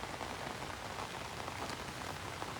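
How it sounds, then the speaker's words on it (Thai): Steady rain pours down near a river in Laos, a dense unbroken hiss of drops on surfaces with no talk or other sounds over it. "โอ้สภาพอากาศจะว่าฝนก็ตกตลอดเลย"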